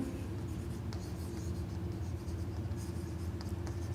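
Chalk or marker scratches across a board as a maths observation on group theory is written up, with soft continuous strokes and taps over a steady low room hum.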